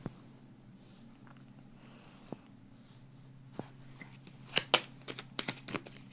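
Tarot cards shuffled and handled close by in a quiet room, a few isolated taps early, then a denser burst of riffling and flicking toward the end over a low steady hum.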